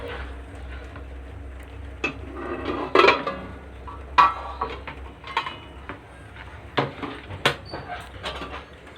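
The lid comes off a pot of boiling eggs in a village kitchen, making several sharp metallic clanks and clatters at irregular intervals against a low background hum.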